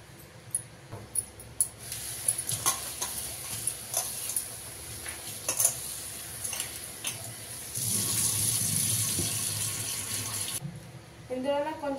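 Chopped vegetables washed in salted water: a few knocks and splashes of handling, then a steady run of tap water filling a vessel for several seconds, with a voice talking over parts.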